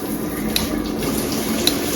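Steady hiss of filtered water spraying from an upgraded three-way shower head with ten settings in a Los Angeles bathroom, a continuous even spray with a couple of faint clicks.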